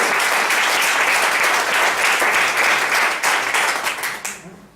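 A church congregation breaks into loud, dense applause during a sermon, steady clapping filling the space for several seconds before tapering off at the end.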